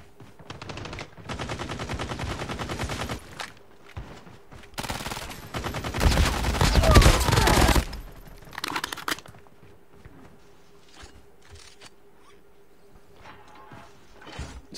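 Gunfire in the Call of Duty: Mobile video game, including sniper shots, comes as rapid automatic bursts and dense volleys, loudest in the middle, with sparser shots and game effects afterward.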